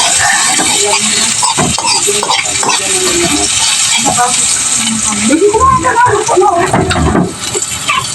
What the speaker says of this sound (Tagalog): luto natin mga fishball